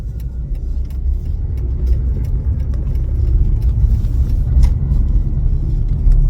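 A car engine revs up and accelerates while driving in traffic, a steady low rumble swelling gradually louder over several seconds, with faint jingling on top and no talking.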